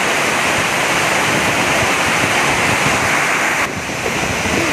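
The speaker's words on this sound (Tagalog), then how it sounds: "Ang lakas na ng may kasamang hangin na itong bagyo." Strong, continuous roaring typhoon wind with broadband rushing noise, steady and loud throughout, dipping slightly near the end.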